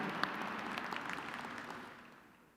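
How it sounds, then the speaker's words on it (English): Crowd applause at a university spring commencement ceremony in a large hall, a soft, distant wash of clapping that fades out. "Give them a round of applause, guys."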